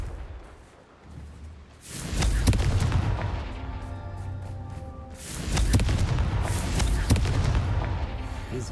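Confringo blasting spell cast in the Hogwarts Legacy video game: two loud booming bursts with crackling impact, the first hitting about two seconds in and the second about three seconds later, each trailing into a sustained rumble.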